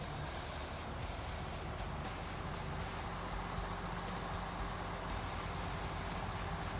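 A Kenworth truck's engine drones in SnowRunner on brutal mode in Austria, a steady low rumble with faint beeping and hiss, constant and unbroken throughout.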